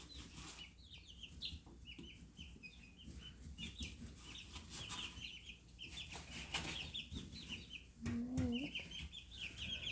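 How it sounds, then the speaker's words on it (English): Baby chicks in their bedding chirp in a constant high, busy chatter, many small peeps overlapping at close range with soft rustling beneath. "So there's your baby chicks."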